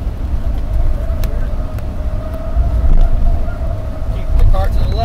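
A race car's engine drones in a racing video game while the driver gets back on the throttle after a turn. The steady tone climbs slightly toward the end, with someone talking over it throughout.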